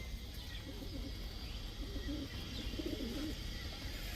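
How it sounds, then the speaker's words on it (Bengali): Big-sized Kaldam pigeons coo softly in a few repeated low phrases, faint and somewhat distant over a steady background hum. "কালদম, সাহারানপুরি কালদম, বিগ সাইজের অনেক লম্বা কবুতর।"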